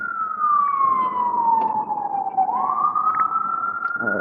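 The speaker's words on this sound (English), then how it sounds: "Soothing sounds of sirens in the city." A single wailing siren sweeps slowly down in pitch, then rises again, loud and fairly close over faint background traffic noise.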